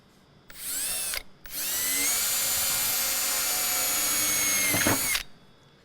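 A power drill whines loudly in a brief burst, pauses, then runs steadily for several seconds before winding down, close up, drilling holes in a Mercedes Sprinter van body for a snorkel install.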